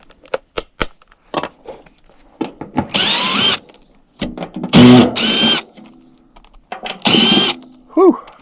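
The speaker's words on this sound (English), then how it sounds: "Give me that little drill." A small power drill whirs in several short, loud bursts with clicks and pauses between them, used during an HVAC change-out in a basement.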